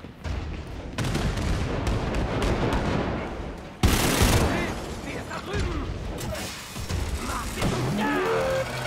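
Rapid machine-gun pistol fire in the shooter game Wolfenstein: Youngblood, loud bursts of shots running through most of the stretch amid explosions and mechanical clatter, with a heavier blast partway through.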